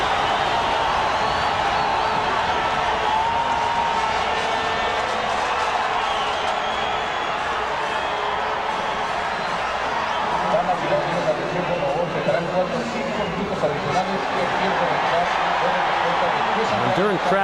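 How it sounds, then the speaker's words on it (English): A Honduran football crowd in a stadium roars and urges its team on during stoppage time against Colombia, a broad, distant wash of cheering with a commentator talking over it. "Honduran crowd just egging their team on for more"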